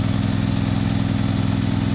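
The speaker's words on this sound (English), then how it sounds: "Here's my New Holland tractor." A New Holland tractor engine runs at a constant idle nearby at a farm manure pit pumping job, a loud, even mechanical rumble with no change in pace and no talking.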